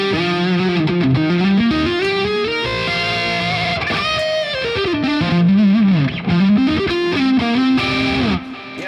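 Distorted electric guitar played through a Nunchuck amp set for a classic JCM 800 style crunch, a continuous riff of sustained chords and lead lines, loud and close with no talk.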